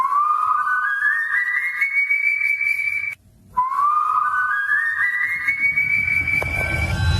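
Two long eerie rising whistles, each gliding upward in pitch and then holding a high sustained tone, separated by a brief silence, loud and close with no voices; rumbling noise creeps in near the end.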